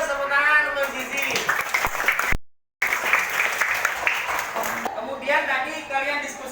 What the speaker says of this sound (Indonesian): Tepuk tangan untuk Zizi.